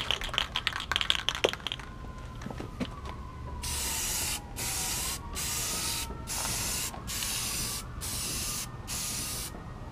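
Primer is sprayed onto metal arcade game parts in a run of evenly spaced aerosol hisses, each a second or so long, close and loud, back and forth, after some light clicking and handling noises at the start.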